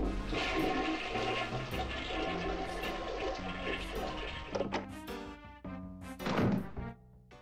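A toilet flushing in the Blazing Dragons adventure game: a loud rushing, gurgling swirl of water that drains away, followed by a few hollow knocks and a final splashy gush.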